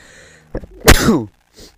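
A single sharp sneeze bursts out in Grand Theft Auto 5, with a short intake of breath just before it.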